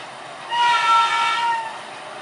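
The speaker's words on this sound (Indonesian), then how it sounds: "Dan sebentar lagi lokomotif akan menerjang semak-semak ilalang teman-teman." A sugar cane railway locomotive at PG Kedawung pushes through tall reed grass on a flooded line, giving a steady rumbling rush with a tonal horn-like whine that swells for about a second and then eases, heard alone without talk.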